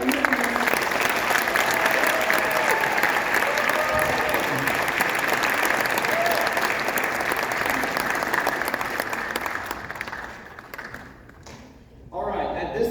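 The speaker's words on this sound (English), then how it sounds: "Let's give another round of applause for our current listeners." Audience at a Southwest Baptist University pageant giving a long, loud round of applause, dense clapping that fades near the end before a brief renewed burst.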